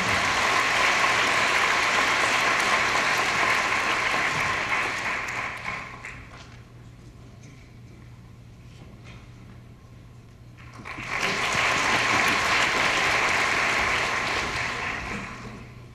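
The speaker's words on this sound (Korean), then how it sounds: "큰 박수로서 안병현 교수님께 축사를 요청드립니다." A large hall audience at a university matriculation ceremony applauds, a loud sustained burst of clapping that fades, pauses, then swells again, over a faint steady hum.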